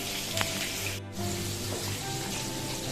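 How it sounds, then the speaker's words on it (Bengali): Food fries with turmeric in a pan in a home kitchen, a steady close sizzle that dips for a moment near the middle, then resumes. "আর আস্তে আস্তে সবকটা ভাজবো, তারপরে লাস্টে করবো, সবার লাস্টে করবো চিকেন।"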